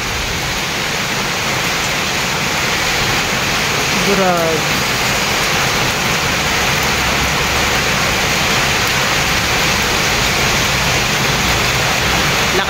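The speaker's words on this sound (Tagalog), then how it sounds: "Lakas na ang ulan, malakas na ang hangin." Heavy rain pours in a steady, loud roar during Typhoon Kristine, with strong wind and a brief spoken exclamation partway through.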